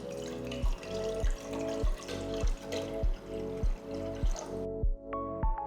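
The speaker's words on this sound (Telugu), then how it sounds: "నూడిల్స్ని ఉడికించడానికి ఒక పెద్ద గిన్నెలో సరిపడా నీళ్లు పోస్తున్నాను." Water runs from a tap into a large cooking pot for boiling noodles, a steady pouring rush broken by a regular rhythmic knocking, then stops near the end leaving a few clinks.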